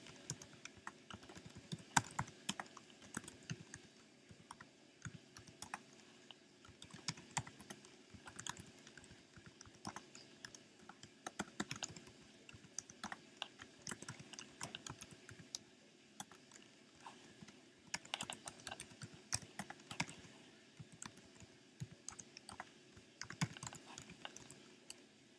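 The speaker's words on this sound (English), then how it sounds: "So here I'm going to go ahead and type in all of the names." Names are typed on a computer keyboard in bursts of quick, light key clicks with short pauses between words, close and fairly faint, with no talking.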